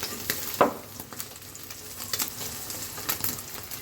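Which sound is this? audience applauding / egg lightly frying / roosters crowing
egg lightly frying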